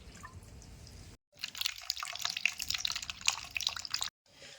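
Water runs and splashes steadily out of the overflow hole of a BG862 machine during filling, a close trickling, dripping stream with short breaks and no talk.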